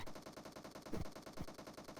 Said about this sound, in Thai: ดูมันยิงกันนะฮะ